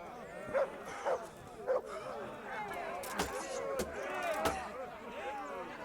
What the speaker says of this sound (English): Hey, my dog's following me.